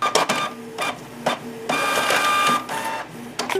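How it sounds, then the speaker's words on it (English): A home printer runs through a document, with mechanical whirring passes and clicks that start and stop in bursts, close by and moderately loud. "now that that's printing"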